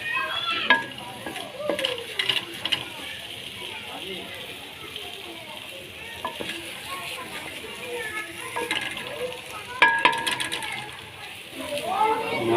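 Semolina for suji halwa sizzles in a pan while a spoon scrapes and stirs it in irregular strokes, close and moderately loud, with someone talking over much of it.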